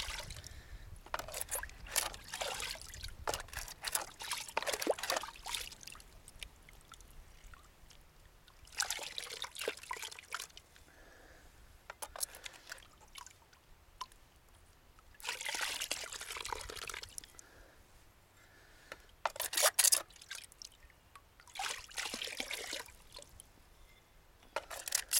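Water washing and trickling through a gold pan while panning down to black sand, in repeated soft sloshing bursts separated by quieter gaps, close and faint.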